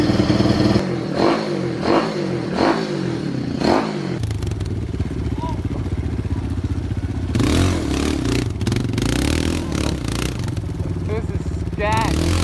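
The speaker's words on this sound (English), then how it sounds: "Got the pit bike all going." A pit bike engine runs and revs up repeatedly in rising and falling pulses, loud and close, then settles into a steady rough running drone with clattering and scraping, and some talk mixed in.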